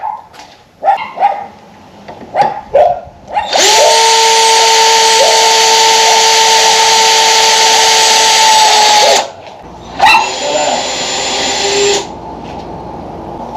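Power drill driving screws into a 2x4 work table frame, with a long continuous whine, a shorter second run, and a dog barking in several bursts before it.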